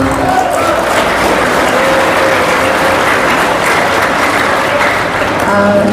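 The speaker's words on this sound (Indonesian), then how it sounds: "Tepuk tangan buat kita semua" Loud, close applause from a crowd gathered at an organization's anniversary event, sustained clapping at a constant level for the whole stretch with faint voices mixed in.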